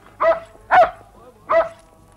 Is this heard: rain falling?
no